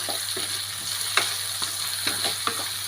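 Sliced onions sautéed with ginger and garlic in hot oil for Kerala beef mappas: an even, close sizzle under periodic scraping and clattering stirs of a spoon against the pan, with nobody speaking.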